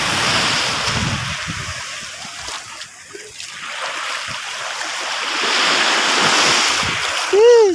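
Waves wash onto a beach shore in a continuous broad rush with wind noise. The surf swells louder toward the end, and a brief high whistle-like call sounds at the very close.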